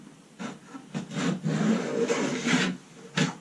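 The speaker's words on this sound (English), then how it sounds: "This is cutting a 1/4 inch groove" A handheld router cuts a 1/4 inch groove into a wood frame panel about 4 millimeters deep, giving a close, loud rasping whine that swells and dips in uneven bursts over a few seconds, with no talking.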